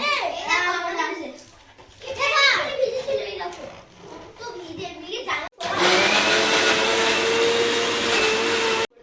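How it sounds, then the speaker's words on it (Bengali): Ginger and garlic ground in an electric mixer grinder, starting after children's voices and chatter and then running as a loud, steady motor whir near the mic for several seconds. "আদা রসুনটা মিক্সারে বেটে নেব।"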